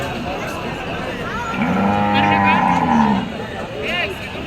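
A cow at a village cattle market gives one long, deep moo close by. It rises over a steady bed of crowd chatter and background noise.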